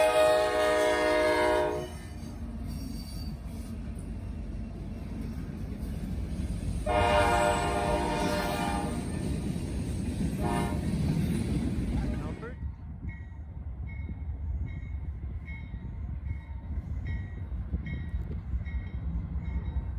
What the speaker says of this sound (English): UP 1995 came north on NS 188.